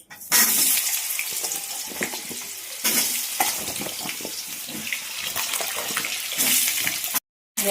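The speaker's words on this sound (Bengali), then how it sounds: "তেল গরম হয়ে গেছে, এবারে আমি আলুগুলোকে ভেজে নেব।" Potatoes hit hot oil with a bright, loud sizzle, then crackle unevenly while being stirred, with a brief gap near the end.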